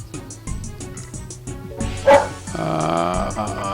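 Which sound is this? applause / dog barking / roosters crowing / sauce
dog barking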